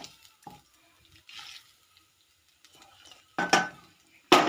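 A utensil stirs vegetables in a cooking pan, bottle gourd and potato with ginger, in faint scraping strokes, ending in two louder, sizzling scrapes close by.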